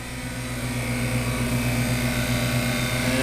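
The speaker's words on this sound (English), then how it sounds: "And so now, all that noise is from the" A freeze dryer runs in a kitchen, giving a loud, steady mechanical drone with constant low hum tones and broad hiss, unbroken and alone throughout.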